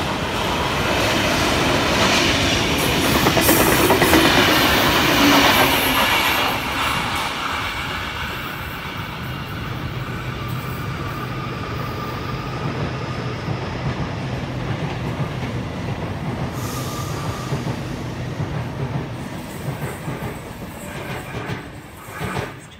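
A Sydney train rolls along the rails with a loud, continuous rumble and rhythmic clatter from the wheels, swelling early and then settling into a steady roar that lasts throughout.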